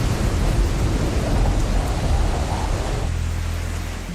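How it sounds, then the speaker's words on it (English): Heavy thunderstorm rain pours down in a steady, dense roar, with a deep low rumble of thunder underneath that eases off toward the end. "At the same time, the rain picked up in intensity."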